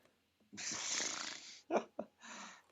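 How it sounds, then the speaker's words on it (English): Someone snoring close by: one long, rasping inhaled snore, then two short snorting catches and a softer final snore, all quiet with no talk. "Oh, were you snoring?"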